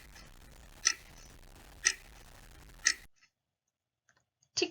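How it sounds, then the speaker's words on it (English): A clock ticks with three sharp, evenly spaced clicks about a second apart, then a short near-silence before one more tick, close and clear with no voices. "What sound does a clock make?"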